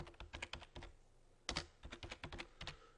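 Quick bursts of typing on a computer keyboard, clusters of crisp key clicks separated by short pauses, close and clear with no talking.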